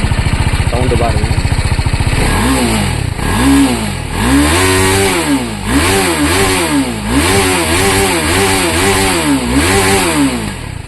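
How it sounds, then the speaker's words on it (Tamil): A TVS Apache RR 310 motorcycle engine idles with a rapid putter, then is revved repeatedly in rising and falling swells, loud and close. "வேறு லெவல் இன்ஜின் சவுண்டு பாருங்கள்."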